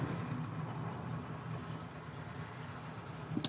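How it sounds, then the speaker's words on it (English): Carbureted Ford pickup engine, a 1980 F100 or 1992 F150, idling a little roughly just after a warm startup, a steady low rumble heard close and alone without talk. "Carburetor loads up a little bit. That's why it doesn't idle quite smoothly at startup."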